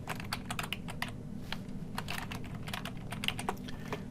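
Quick, close clicks and clacks of computer keyboard keys being tapped in a rapid, irregular run, as a shortcut combination is pressed during drawing work.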